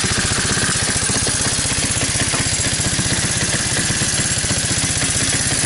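A waterlogged 1985 Honda ATC 200S three-wheeler runs on only the fuel left in its carburetor, a close, steady single-cylinder idle with an even rapid putter throughout and no talk.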